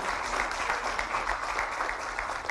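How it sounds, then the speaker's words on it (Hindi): Crowd applause at a government ceremony where the Chief Minister is welcomed with a bouquet, a dense, steady wash of clapping lasting throughout at moderate loudness. "और आपकी तरफ से स्वागत स्वरूप जोरदार तालियां जरूर हों।"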